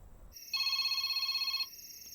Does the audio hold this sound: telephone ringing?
yes